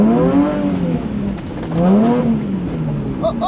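A Porsche's engine revs hard while drifting, pitch climbing and dropping in two loud, close surges with a steady roar between them; no voices are heard.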